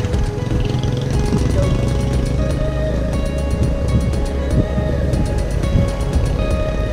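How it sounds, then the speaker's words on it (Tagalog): Strong wind roars and buffets the microphone beside the sea near Puerto Galera, with surf and waves churning underneath in a loud, steady wash and a faint rhythmic ticking over the top. "Sobrang lakas ng hangin."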